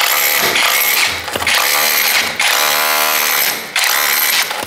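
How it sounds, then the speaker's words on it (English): An SDS drill breaks out plaster and masonry between two cuts for a cable chase in an old house wall, loud rattling hammer bursts in three long runs with brief pauses, close and alone. "Grab a chisel or SDS drill and break the material out between the two cuts that we've made."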